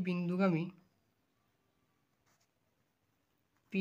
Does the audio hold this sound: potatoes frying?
no